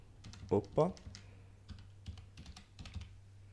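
Computer keyboard typing in a software drafting session: a few bursts of key clicks spread across the clip, fairly close, with a voice talking at times.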